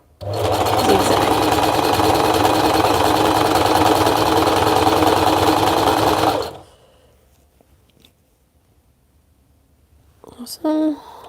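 A sewing machine runs a zigzag stitch along the hem of a thrifted T-shirt, a loud, fast, steady mechanical whirr for about six seconds before stopping abruptly, followed by quiet handling and a short burst of talk.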